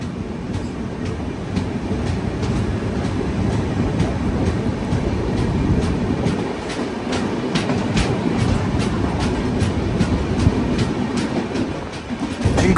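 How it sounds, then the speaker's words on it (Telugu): A double-decker express train between Bangalore and Chennai runs on the tracks, heard from onboard as a continuous loud rumble with regular clickety-clack beats from the wheels over rail joints, briefly dipping near the end. "ఆ ట్రైన్ ఎలా వచ్చింది, మన ట్రైన్ అలాగే వెళ్ళిపోతుంది"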